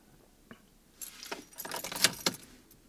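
Car keys jangling as they go into the ignition: a soft click, then a second and a half of close metallic rattling with a few sharper clinks, alone in a quiet interior.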